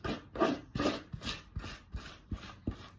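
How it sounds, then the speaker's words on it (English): A spatula or scraper drags icing around a sloped cake in a home kitchen, seven rhythmic rasping strokes in steady succession, close and moderately loud with no talking. "So I'm going to scrape it around."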